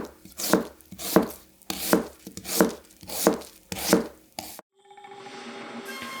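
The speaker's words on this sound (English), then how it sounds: "And it can still slice an Asian pear well." Damascus gyuto kitchen knife slicing through a crisp Asian pear on a wooden board: seven sharp, evenly spaced crunching cuts, close and loud, followed by a brief quiet settling rustle.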